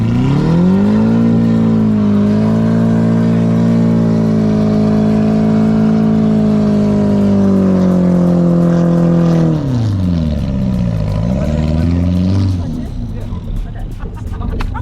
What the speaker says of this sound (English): Throttle, full throttle, full throttle.